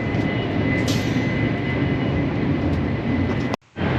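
Steady, loud broadband rumble of a Ouigo high-speed train running between Barcelona and Madrid, heard from inside, continuous throughout before a brief dropout near the end.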